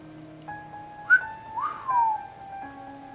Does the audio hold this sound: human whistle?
yes